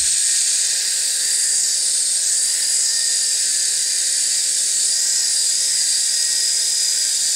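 A Team RC Micro UFO toy helicopter hovers nearby, its small rotor and motor holding a steady, high-pitched whirring buzz throughout, loud and continuous with no talking.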